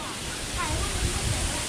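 Waterfall at Tad Wimanthip near Phu Langka cascading in steady broadband rush, close and continuous, with faint voices mixed in beneath it.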